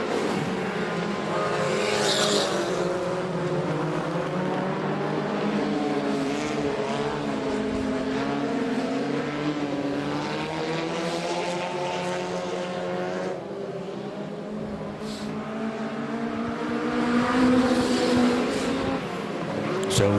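Stock cars roar around an outdoor oval at a Border Stockcars meeting, their engines droning and rising in pitch as the field gets going again, loud and continuous, with a commentator's voice running faintly underneath.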